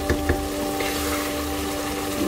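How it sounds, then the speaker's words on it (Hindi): Minced keema fries hard over a high flame, giving a steady close sizzle with a couple of sharp spatula knocks near the start and a low hum running underneath. "तो इसको हम तेज़ आंच पे भूनते हैं।"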